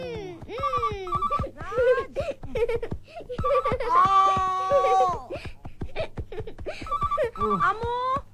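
A telephone rings in repeated double bursts at home, loud and close, while voices talk and laugh over and between the rings.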